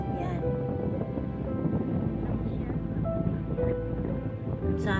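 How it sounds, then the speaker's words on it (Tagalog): Strong wind roars across the microphone at Rhino Rock in Hong Kong, a continuous heavy buffeting rush that stays close and loud throughout. "Grabing hangin dito, guys."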